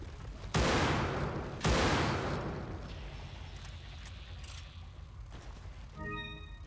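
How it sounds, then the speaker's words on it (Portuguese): Gunfire from modded weapon sounds in the Resident Evil 4 video game: two loud, close shots with a short echoing decay, then quieter shuffling and faint tones. "Por isso que os sons das armas estão diferentes."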